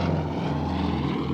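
A Su-27 Flanker jet flies at the RAF Waddington airshow, giving a loud, continuous roar that holds steady and close throughout, with a low, thick rumble underneath.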